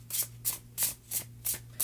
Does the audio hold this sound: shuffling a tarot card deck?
yes